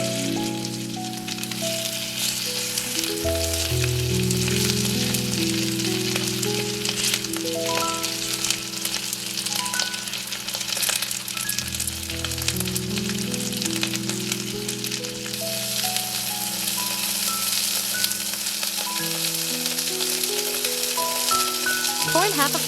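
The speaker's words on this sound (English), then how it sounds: "cook the marinated chicken over medium-high heat" Marinated chicken pieces sizzle and crackle in a skillet over medium-high heat, a steady frying hiss running throughout beneath background music.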